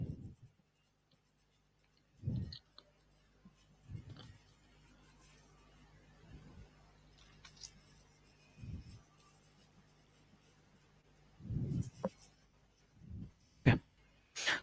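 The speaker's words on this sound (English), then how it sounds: "We'll write it." Pen or pencil writing by hand on paper during a cost and management audit revision lesson, heard as faint, sparse scratchy strokes in short bursts with long quiet gaps, alone without talk.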